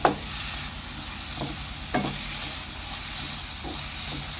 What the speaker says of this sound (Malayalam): നമുക്ക് ഇതിട്ടിട്ടൊന്ന് നല്ലപോലെ ഒന്ന് മിക്സ് ചെയ്യാം